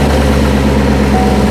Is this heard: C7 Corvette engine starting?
yes